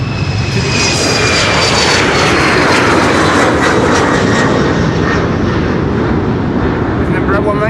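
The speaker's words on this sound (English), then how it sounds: "With an Embraer 190 just now, having taken off." An Embraer 190 jet takes off from Amsterdam Schiphol's Polderbaan runway, a loud, sustained engine roar close by with rising whining tones that holds strong throughout.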